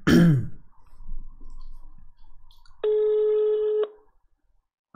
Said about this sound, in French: J'ai composé le numéro de téléphone, c'est parti tout seul.